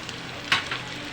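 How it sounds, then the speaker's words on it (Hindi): Spices with red chilli powder and salt sizzle steadily in hot oil for a kala chana curry, a close, continuous fry with a brief louder hiss partway through. "अच्छी तरह फ्राई करूँगी।"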